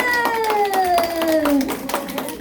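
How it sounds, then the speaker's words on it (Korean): A group of nine-year-old children clapping in a classroom to celebrate a classmate, their uneven claps building under a sliding, drawn-out voice. "박수!"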